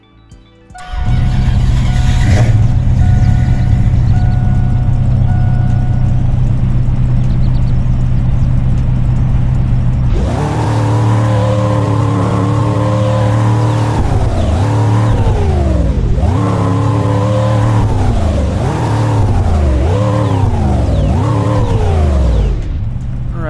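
A classic 1972 car in the video game Greenville starts, idles loudly, then revs repeatedly in rising and falling surges, the engine close and alone with no talk over it.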